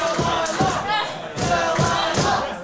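Crowd at an inner-city wrestling championship fight night cheering loudly in rolling surges, with a commentator's voice running over the noise.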